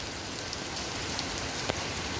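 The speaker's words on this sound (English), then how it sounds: "So everybody is waiting for the rain to stop and they will resume their works." Steady rain on a cloudy day at an outdoor gerbera flower farm hisses evenly and close, with scattered individual drops tapping on nearby surfaces throughout.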